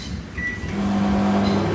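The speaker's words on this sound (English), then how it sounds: "So now I'm going to put them in the microwave 20 seconds because I have 2 tortillas." A microwave oven runs close by with a steady low hum, warming two tortillas, preceded by a short electronic beep.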